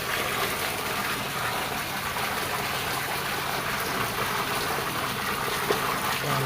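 Water pours steadily into a mini fish pond on a farm, a constant broadband rushing and gushing with no breaks, fairly loud and close.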